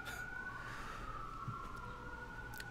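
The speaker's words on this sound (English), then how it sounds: "Sounds like the sirens are coming closer." Emergency sirens wail faint and far off, holding a steady tone across the short stretch.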